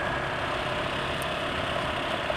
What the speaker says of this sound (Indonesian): Sementara ini peret tapi disertai dengan suara mesin asak-asak.